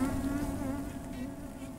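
Bees buzz up close in a steady, droning hum that holds its pitch throughout, loud and continuous with no voices.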